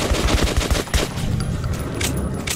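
Rapid gunfire from a shooter video game rattles in a fast, loud volley, then gives way to a denser, continuous wash of shots and ambient game noise.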